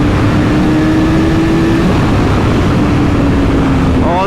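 A 2003 Kawasaki ZX6R 636 sport bike engine winds up to a high-pitched scream near 15,500 RPM, then holds and eases off, buried under a heavy, continuous rush of riding wind.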